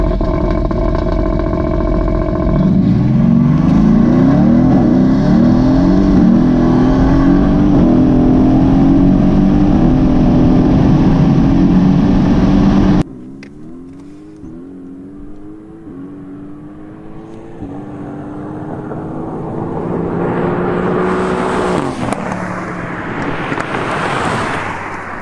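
A Renntech Mercedes-AMG car accelerates hard from first gear, its loud engine climbing steadily in pitch, then cutting off abruptly halfway before building again through a quieter, rising second pull.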